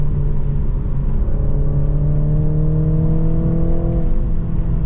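A 2022 BMW Z4 2.0 sDrive convertible engine hums steadily while driving, a loud, close in-cabin drone with a gently rising pitch and constant low road rumble, no voices.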